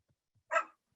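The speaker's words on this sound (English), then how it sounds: "my dog would like to chime in" A dog lets out a single short, sharp bark close by during an online talk, with near silence before and after it.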